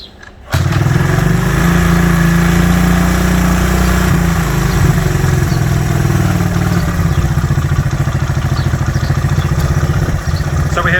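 A classic Honda motorcycle, a CB125 or CB360 under restoration, fires up suddenly and settles into a loud, steady, close idle with a rapid, even chug that carries on for several seconds.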